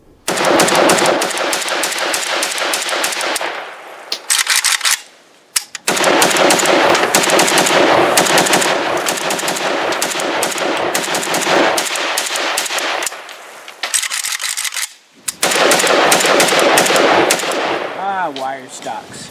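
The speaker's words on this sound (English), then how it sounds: "here are the first shots out of this one" Test firing of a PAC AKM Sporter rifle: loud, rapid strings of gunshots in long bursts, with brief pauses between strings and a short tail of lower rumble at the end, no talking.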